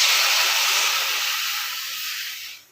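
Water poured into a hot wok (kadai) on a gas flame hisses into loud, continuous steam close by, then cuts off abruptly near the end.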